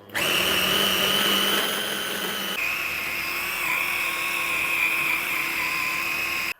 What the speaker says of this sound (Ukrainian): І буду зараз збивати блендером.